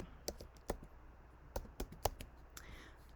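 Fingers type on a computer keyboard in a quiet room, a sparse run of separate close clicks and taps with irregular gaps between keystrokes.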